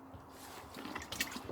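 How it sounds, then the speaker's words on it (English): A small splash of water pours into a soft cooler being readied for a leak test, a faint, brief trickle and slosh heard close by. "A little bit of water in there."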